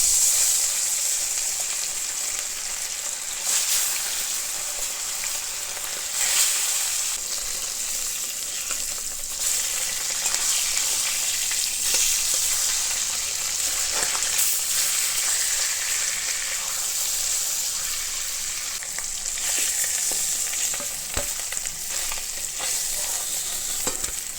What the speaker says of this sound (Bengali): তেলটা গরম হয়ে গেছে এপরে মাছগুলো দিয়ে দেবো